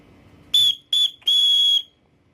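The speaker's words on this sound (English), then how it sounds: "This paracord bracelet does come bundled also with a little whistle, which is pretty loud for what it is." A small emergency whistle from a paracord survival bracelet blows three shrill, piercing blasts, two short and one longer, loud and close against faint background noise.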